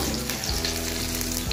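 Cauliflower florets frying in oil in a kadai for khichuri, a continuous close sizzle with a soft metallic stirring clink partway through, steady and fairly loud with no talking.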